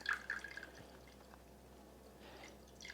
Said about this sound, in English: you want to be careful not to pour this so fast that you get water in your creme brulee